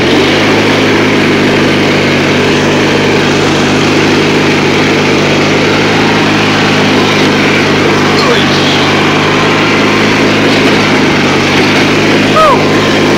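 A small racing vehicle's engine held at full throttle on a race track, with a loud, steady, buzzing high-revving drone that stays close throughout, and wheel spin. Someone talks over it.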